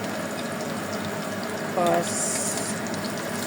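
Pork chops fry in a pan with a steady, loud sizzle and crackle throughout, with a few brief spoken words over it.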